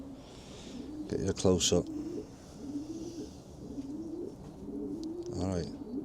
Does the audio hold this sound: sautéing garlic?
no